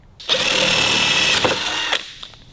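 A power drill whirs steadily at close range for about a second and a half, briefly dips, surges again, then winds down.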